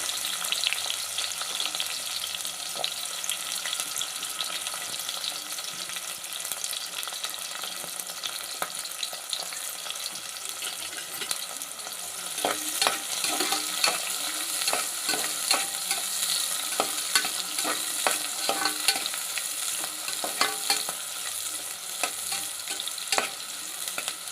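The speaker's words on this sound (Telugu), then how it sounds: "అవి కొంచెం వేగిన తర్వాత ఉల్లిపాయలు వేసేయాలండి ఒక రెండు ఉల్లిపాయలు కోసేసుకోండి" Sliced onions frying in hot oil for boti (tripe) curry, a steady dense sizzle running throughout with scattered clicks and scrapes of stirring, close and fairly loud.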